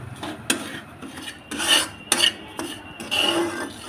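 Semolina being stirred and fried in ghee in a pan with cardamom, a repeated scraping, rasping stir with a few louder strokes, close and steady, with no talking.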